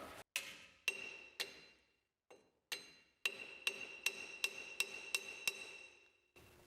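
A hammer taps sharply on a Nissan truck's front wheel hub to loosen it, a string of ringing metallic strikes, slow and spaced at first and then quicker and more regular, close by with no speech.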